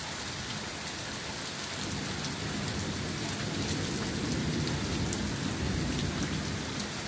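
Steady rain pours down continuously, a dense even hiss of drops on surfaces with faint rumbling beneath, holding at the same moderate level throughout with no voices.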